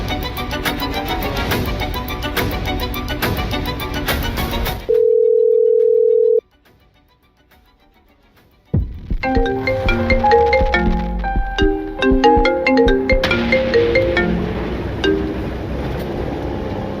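A phone call is placed: a steady tone sounds for about a second and a half, then silence, then a ringing, chiming melodic ringtone plays loudly and continuously to the end.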